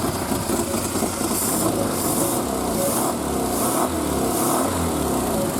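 Cold Triumph Spitfire engine idling at low revs off the choke after hibernation, a steady, close mechanical drone with a faint hiss and a slightly uneven pulse underneath.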